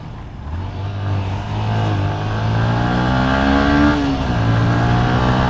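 A Yamaha M-Slaz motorcycle speeding through traffic as dark rain clouds approach, its engine note climbing steadily under throttle and then dropping back, loud and continuous up close.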